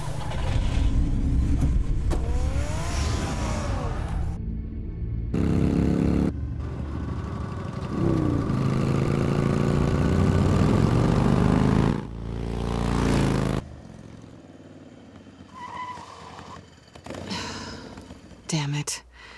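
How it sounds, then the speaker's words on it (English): A car engine drives in the Batman The Telltale Series game. It runs loud and mostly steady, with a droning middle stretch, broken by abrupt cuts, breathy vocal sounds and scattered game effects, then fades to quieter, patchy noise near the end. "Get the car ready, Alfred"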